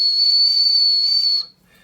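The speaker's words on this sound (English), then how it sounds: "right at the top here, you got yourself a whistle." A small whistle built into the top of a Willuck tactical pen is blown once, giving a loud, shrill, steady tone for about a second and a half before it cuts off abruptly.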